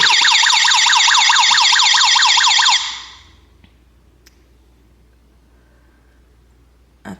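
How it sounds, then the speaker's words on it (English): A gas detector's alarm sounds loudly during a self-test, with a rapid warbling electronic tone for about three seconds that then cuts out into near silence, followed by a brief click. "It's gonna alarm, and then I'll see."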